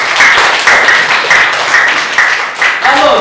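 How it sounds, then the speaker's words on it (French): A French class claps for a classmate after a verb conjugation exercise, loud and fairly steady with rhythmic bursts, while voices chatter underneath. "Applaudissez pour Bruno"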